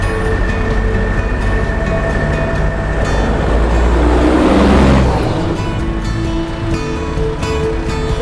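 A truck delivering mined sand for a beach berm project at Vanderbilt Beach, Florida, rumbles steadily and swells as it passes close, with surf and outdoor noise behind it.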